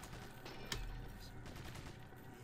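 Zombie enemies in the video game Resident Evil 4 fire guns in the distance, a rattle of repeated shots with one sharper crack standing out from the continuous background noise.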